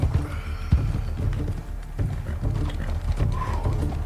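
Horse hooves clip-clopping at a steady walking rhythm, fairly close and loud against a busy, cluttered background, with no clear talk over them.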